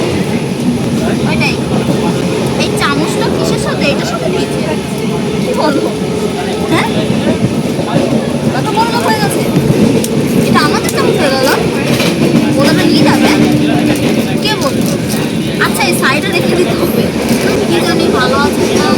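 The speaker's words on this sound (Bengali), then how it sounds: "আর আমরা এখনো ট্রেনের মধ্যে" The inside of a moving long-distance passenger train from Bangalore to Kolkata carries a constant loud rumble and rattle of the carriage throughout, with people talking over it.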